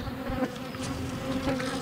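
Bees hum steadily inside a horizontal beehive, a dense, continuous close buzz with no voices.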